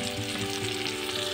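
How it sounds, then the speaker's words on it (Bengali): Chopped tomato with salt stir-frying in a pan, a dense, steady sizzle that stays loud and close through the short moment, with faint stirring underneath and no talk. "ভালো করে নেড়ে চেড়ে ভেজে নেব।"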